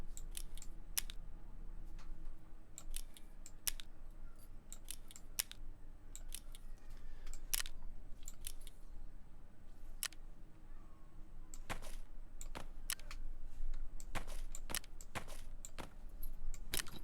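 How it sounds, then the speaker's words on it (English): Pen clicking up close, crisp isolated snaps in irregular bursts and pauses over a faint steady room hum, with no talking. "I think that's the sound of someone clicking a pen."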